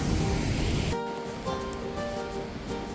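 River water rushing steadily nearby along the Langtang trek in Nepal, a continuous broadband roar that dips slightly after the first second and then carries on evenly.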